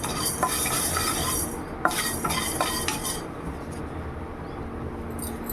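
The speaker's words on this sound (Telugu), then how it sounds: "డ్రై రోస్ట్ చేసేద్దాం" Coriander seeds and fenugreek dry roasting in a pan for a tamarind-leaf chutney, heard as steady scraping and stirring with a few sharp utensil clicks against the pan, close and moderately loud with no talking.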